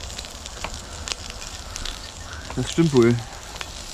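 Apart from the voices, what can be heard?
beef and vegetables searing in pot over open fire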